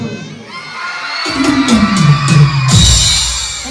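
A crowd of schoolchildren at a Mayyil primary school hoots loudly together on cue, a rising, sustained chorus of shouting and whooping voices that swells after a brief lull and stays strong to the end.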